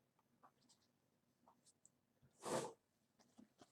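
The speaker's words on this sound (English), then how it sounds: "That's the sound of me getting a tissue." A single short, soft rustle of a tissue being pulled from a box, with faint scattered clicks and small handling noises around it.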